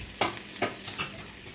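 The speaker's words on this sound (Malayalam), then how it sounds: "അപ്പോൾ ആ ചിക്കനാണ് ഇപ്പോൾ ഞാൻ ചേർക്കുന്നത്." Minced chicken, seasoned with pepper and salt, goes into a hot pan and fries, with three scraping stirs over a steady, soft sizzle and no talking.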